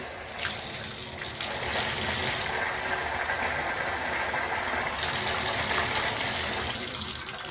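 Hot water runs steadily from a tap, a constant close splashing gush that swells slightly partway through and continues without talk.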